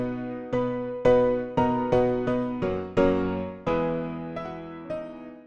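A dry, unprocessed free MeldaProduction grand piano plugin plays a short chord pattern, about ten distinct strikes that decay quickly between hits; close and clear, no voices.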